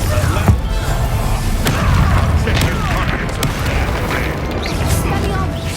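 Explosive Confringo spell blasts in the Hogwarts Legacy video game, heavy booms and crashes layered over dense battle noise and a voice, with sharp bursts recurring throughout the fight.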